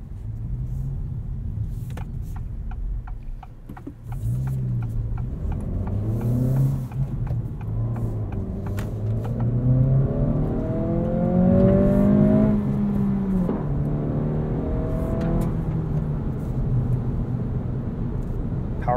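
A 2023 Acura Integra with a 6-speed manual drones along under way, its engine note rising and falling through several revs and shifts, a steady rumble with whirring road noise inside the cabin.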